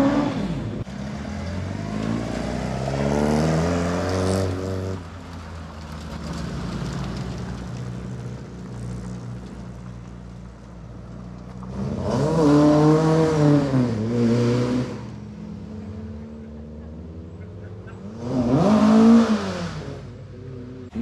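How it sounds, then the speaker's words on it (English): Group 4 Mk2 Escort rally car arriving at an event, its engine revving in three separate surges that swell and fade between quieter idling stretches, with no talk. "Another Group 4 Mk2 Escort rally car joining the party."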